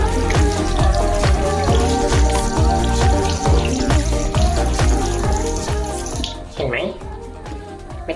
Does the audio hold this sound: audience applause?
no